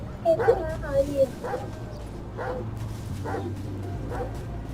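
A dog gives a series of short barks and yips at a steady pace, close by, with people talking over it.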